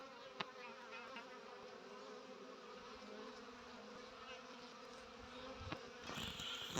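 Steady buzzing of many honeybees around a hive bringing in pollen in February, a dense close drone with a brief louder hum near the end.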